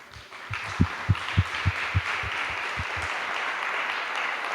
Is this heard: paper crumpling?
no